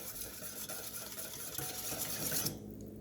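Oil and vinegar being whisked together into a vinaigrette, a continuous rapid scratchy rubbing of the whisk close up that stops abruptly near the end.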